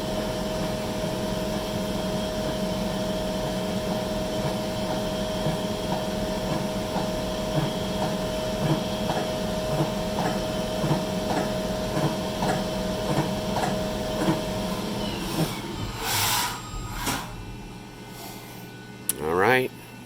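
A Fadal 4525HT vertical CNC machining center running a drill cycle hums and whirs with rhythmic mechanical pulsing, then winds down before a few sharp clanks and bursts near the end.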